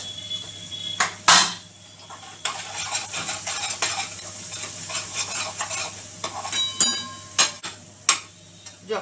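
Ground spices such as turmeric, chilli powder, garam masala and coriander-cumin powder roast in a pan while a spoon scrapes and stirs, giving steady close sizzling broken by sharp metallic clinks against the pan's sides.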